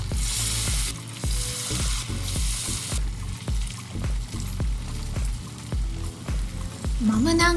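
Pumpkin and sweet potato tempura frying in hot oil, a loud close sizzle broken by regular clinks and scrapes as pieces are moved, with a brief tonal sound at the very end.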